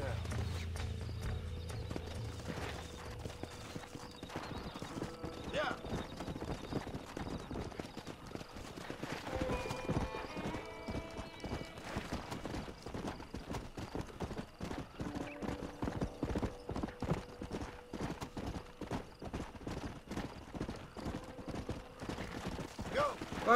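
Horse hooves clip-clopping in a rapid steady gait along a path in a ranching video game, with a brief whinny partway through, while a person talks over most of it.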